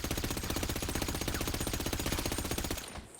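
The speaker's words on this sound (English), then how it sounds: "First we'll test the micro SMG." Micro SMG fire in GTA Online: one long, rapid, evenly spaced automatic burst, loud and up close with no voice over it, cutting off right at the end.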